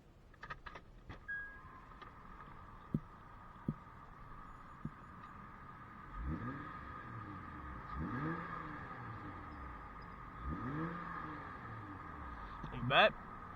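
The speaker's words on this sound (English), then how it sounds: "let's finish this video off with a few revs" A 2008 Acura TL Type-S engine is revved several times in succession, each rise and fall clear and moderately loud, with a few sharp clicks early on and a brief jangle at the end, no talking over it.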